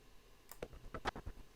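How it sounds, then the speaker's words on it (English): A few soft key presses on a computer keyboard during video editing, quiet clicks close by, about four taps in under a second with no talk. "I'm going to hit the overwrite button, or B on my keyboard."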